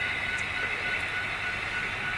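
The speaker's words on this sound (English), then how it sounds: "A train mainly of boxcars, but also there's a bulkhead car on the back as well." Model railroad manifest train made up mostly of boxcars with a bulkhead car at the rear rolls past with a steady mechanical hum and whine, a constant, moderately loud running sound with no voices.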